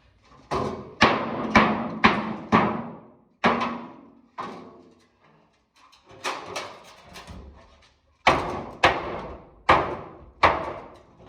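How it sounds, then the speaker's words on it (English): Heavy metallic thuds from hammering a dented Mazda Miata fender come in uneven bursts with short pauses between groups of blows, close by and loud. "I try to do as much hammering as I can"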